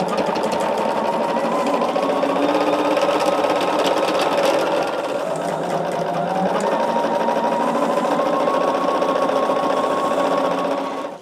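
A sewing machine runs steadily, stitching cotton quilt pieces together for a tree-of-life quilt block, with a continuous close, loud motor hum and rapid needle chatter that stays unbroken for about eleven seconds.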